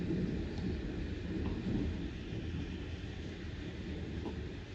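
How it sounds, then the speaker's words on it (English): Thunderstorm in Tulsa with heavy rain and gusty winds, a steady loud rumbling roar of rain and low thunder filling the whole stretch without pause. "I'm really recording this big old ashy storm right now."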